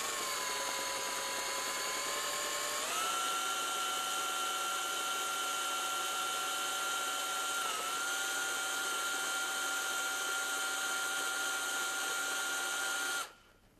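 A cordless drill fitted with a 90-degree, 13.4 mm deburring tool countersinks a bicycle rim's valve hole, whining steadily for about thirteen seconds with slight pitch dips as it bites, then cutting off abruptly; quiet and alone.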